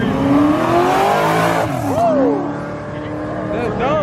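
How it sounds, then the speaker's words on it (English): Car revving with squealing tires at a car meet with luxury cars, engine whine rising and falling across the clip, with a sharp tire squeal sweep midway, heard under ongoing crowd talk. "That's Dom's car."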